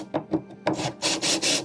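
Screws backed out and redriven into the wooden slats of a DIY virtual pinball cabinet: a few short rasping bursts, then steadier, louder grinding runs close by, with no talk.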